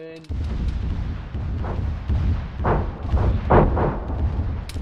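Grad rocket artillery impacts in ArmA 3, a series of rumbling booms rolling in over a continuous low battlefield din, several heavy hits clustered in the latter half, with distant voices faintly underneath.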